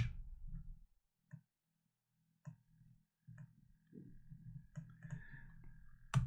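A few scattered key clicks, some isolated and some in short bursts, soft and close in an otherwise quiet room.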